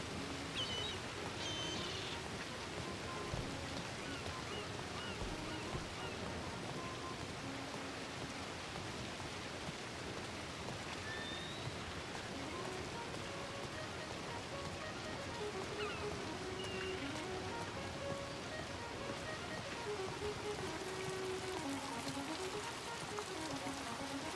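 Rain falls in a ranch roleplay video game as a steady, faint hiss of drops that stays even and unbroken throughout, with low background game sounds drifting underneath.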